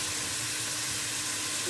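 Chicken frying with spices in a karahi, a steady broadband sizzle close by, continuous and even throughout with no talk.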